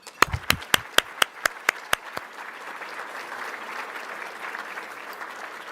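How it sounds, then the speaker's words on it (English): At a Lunch for Libraries event, a run of about nine sharp, evenly spaced claps from one person up close grows into broad, steady applause from a crowd for the sponsors. "I want to give them a round of applause for being supportive of Lunch for Libraries today"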